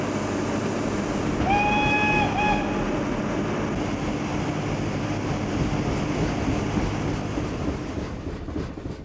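Mettupalayam mountain railway train running steadily, a loud continuous rumble of wheels and carriages, with a brief two-tone horn sounding near the start before the noise slowly fades toward the end.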